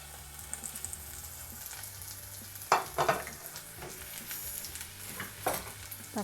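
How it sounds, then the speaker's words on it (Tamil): Tomatoes sizzle and crackle in a hot pan with occasional stirring scrapes, a steady frying hiss punctuated by a few louder clatters. "தக்காளியையும் நல்லா வதக்கிடலாம்."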